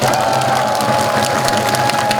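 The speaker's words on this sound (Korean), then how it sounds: "우리 옆에 계신 분들 격려의 힘으로 박수 한번 주십시오." A large outdoor crowd at a 2022 presidential campaign rally in Changwon's Sangnam Plaza applauds and cheers in a steady, dense roar that holds evenly throughout.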